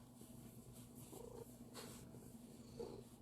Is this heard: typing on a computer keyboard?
no